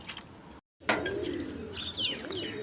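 Domestic pigeons kept by a hobby fancier call from their loft with soft coos and short chirps, close by and fairly steady over light background noise, broken by a brief silent gap early on.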